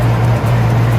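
Car cruising on a highway through West Virginia on a long road trip, heard from inside as a steady low road drone with a constant hum underneath.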